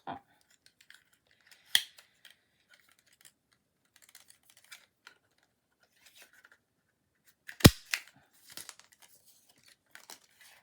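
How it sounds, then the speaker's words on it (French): Scissors snipping paper for a Christmas bauble box craft, a few sparse, sharp cuts and rustles, with one loud snip near the end amid quiet handling. "je vais couper comme ça pour pouvoir couper un autre."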